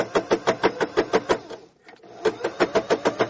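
A sewing machine stitches at a fast, even clatter, briefly stops, then starts again at the same steady rhythm, close and alone.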